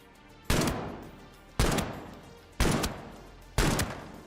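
Four loud, sharp gunshots from a shooter video game, evenly spaced about a second apart, each with a short decaying tail, close and prominent.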